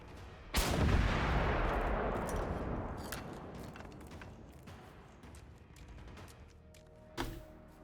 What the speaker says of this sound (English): I'm being shot from what?